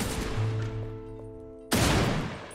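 Automated Sentinel cannons fire in the video game Van Helsing. A burst of gunfire is followed by a ringing, tonal decay, and then a sudden loud blast that stays dense as it fades. No one talks.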